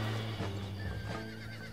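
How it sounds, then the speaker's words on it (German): A horse in the video game Red Dead Redemption neighs, a short, clear whinny with a pitched, wavering tone, up close over a faint background bed. "Dieses Pferd ist jetzt dein treues Ross."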